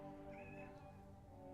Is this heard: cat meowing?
yes